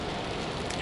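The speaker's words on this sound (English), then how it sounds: "It's obviously raining here." Steady rain falling outdoors, a dense continuous hiss of drops on surfaces at even loudness throughout, with no voices.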